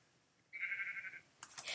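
A single synthetic Minecraft sheep bleats, a steady mid-pitched tone lasting under a second, followed by a burst of noisy in-game clicks.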